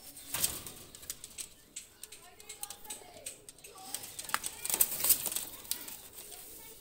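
A Pakistani high flyer pigeon is handled and released, giving scattered bursts of close wing flapping and rustling amid quiet background noise.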